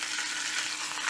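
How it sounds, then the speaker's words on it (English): Steak frying in a pan gives a steady, close sizzle, a bright crackling hiss with no talking. "let it fry on the sides too"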